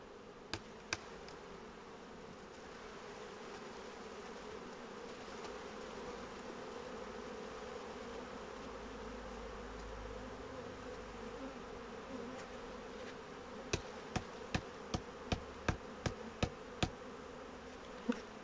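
Dense, steady buzzing of many honeybees close by inside an open hive, a continuous drone with a few sharp clicks and taps near the end.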